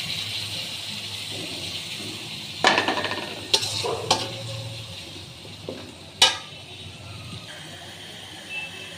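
Chili and turmeric powder frying with garlic paste, ginger paste and onion for bhuna khichuri, a steady close sizzle broken by several sharp scrapes and clinks of a spoon against the pot.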